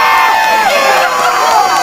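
A crowd at a pumpkin pie eating contest at a pumpkin festival cheers and whoops loudly, a dense, close wash of shouting voices that holds steady throughout.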